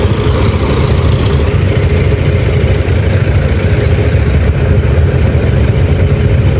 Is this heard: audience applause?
no